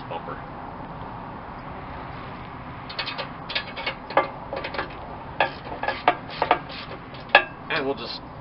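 Ratchet clicking in short irregular bursts while a new winch's mounting bolts are tightened on a vehicle bumper, close by over a low background hum.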